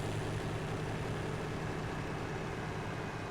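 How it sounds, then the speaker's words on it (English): A tractor engine in a farming simulator game runs continuously in overdrive, giving a loud, steady low drone with a constant hum and no pauses or voices. "The tractor kind of sounds scary. It sounds like the engine's gonna blow up"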